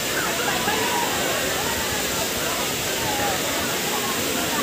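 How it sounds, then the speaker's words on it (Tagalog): Badiang Falls at a spring resort, a loud, steady broadband roar of falling water, close and continuous with no break. "ito na po yung tinawag nilang Bajan Falls"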